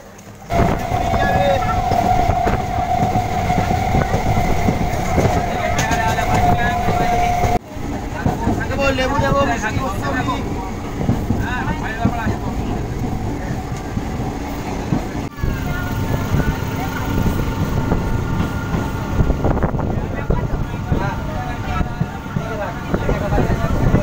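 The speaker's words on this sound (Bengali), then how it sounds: "আমাদের ট্রেন এখন এই মুহূর্তে এসে পৌঁছালো বাহাদুরপুর স্টপেজে পরবর্তী স্টপেজ ঘুগুলিয়া।" A passenger train runs between small local stops on a rural Bengal line, giving a steady loud rumble with rattling wagons and a brief tonal squeal, while people talk over it throughout.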